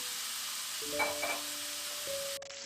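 Water poured into a hot pan of pan-fried cornmeal buns with sugared, golden-crusted bottoms gives a loud, steady hiss and sizzle with a faint ringing tone, then cuts off sharply near the end.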